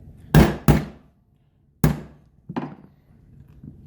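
An Aero Precision Atlas rail is tapped into place on a rifle: two quick sharp knocks, a pause, one more hard tap, then a lighter tap and faint rattles, all close by.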